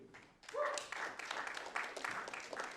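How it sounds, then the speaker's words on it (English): Audience applause for a solo performer at a youth rock competition heat, clapping rising quickly after a brief voice and continuing steadily at moderate volume. "Everybody, give a big round of applause to Mayu."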